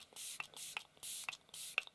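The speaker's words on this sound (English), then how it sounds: "So I'm gonna go ahead and set with a mattifying setting spray." Mattifying setting spray hisses onto a face in four short, close bursts with small clicks between them.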